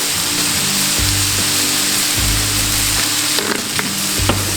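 Cumin and refried beans sizzle steadily in a hot frying pan, a loud, close, continuous crackle with occasional low scraping from stirring and no talking.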